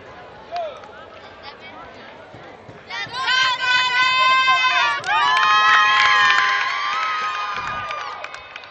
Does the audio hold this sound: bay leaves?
no